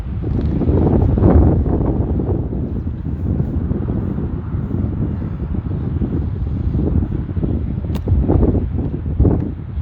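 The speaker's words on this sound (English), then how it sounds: "So right now we've got a headwind" A steady headwind gusts across an open disc golf field, buffeting the microphone with loud continuous low roaring and occasional stronger surges, and no talking.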